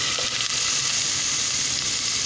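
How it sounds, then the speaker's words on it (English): A handful of chopped onions hitting a hot pan, giving off a steady, loud hiss and sizzle that holds evenly across the short stretch with no talk over it. "First, I'm gonna put in my onions. Put like a handful of onions in there."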